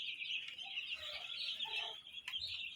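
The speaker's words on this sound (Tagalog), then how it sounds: "about sa bagong dating na sisiw" Newly arrived baby chicks chirp in a dense, continuous chorus of high, thin peeping calls, close by and fairly loud, with no talking.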